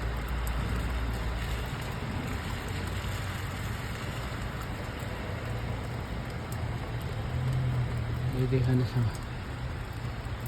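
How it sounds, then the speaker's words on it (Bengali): Heavy rain pours down continuously with water pooling on the ground, a steady moderate hiss throughout, while someone speaks briefly and a low engine-like rumble passes near the end. "প্রচুর একটা বৃষ্টি হইতেছে"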